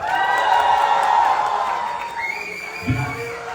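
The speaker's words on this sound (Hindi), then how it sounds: "एक बार जोरदार तालियां दीपिका के लिए" At a Pathaan film event in India, an audience cheers and whoops for an actress, a loud crowd roar that fades over a few seconds, with a brief shout near the end and voices mixed in.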